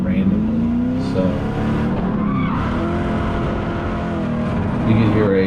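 A 5.3 LS V8 in an FC RX7 drift car roars close and loud through a slide, tires squealing as the engine note wavers and stumbles unevenly, with a voice talking over the din.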